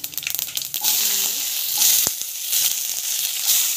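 Mustard seeds, cumin, chana dal and urad dal sizzle in a hot pan of oil, giving a steady, close hiss with faint crackles and a brief sharp pop.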